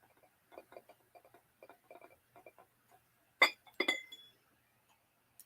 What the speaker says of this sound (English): Fenton Hobnail Melt Glass Paneled Candy Bowl.